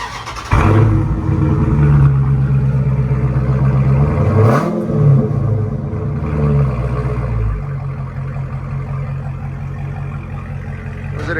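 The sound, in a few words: V8 car exhaust with aftermarket mufflers revving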